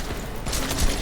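Gunfire in the video game Deus Ex: Mankind Divided comes as a dense, loud rattle of shots over about a second.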